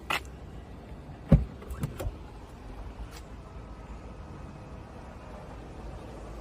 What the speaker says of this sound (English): As we approach the boot, we can see that it's electric.